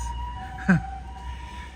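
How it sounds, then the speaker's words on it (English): An ambulance siren passes on a Tokyo suburban street in Kitami, a brief rising wail standing out over steady street ambience and a faint hum. "Oh, and there's an ambulance."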